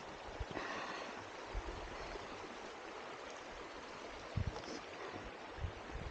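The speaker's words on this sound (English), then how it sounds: "get across this river." A river in Nepal's Tsum Valley, at high altitude near a nunnery, flows with a soft, steady rushing wash, fairly faint and distant, with a few low thumps from nearby movement and no voices.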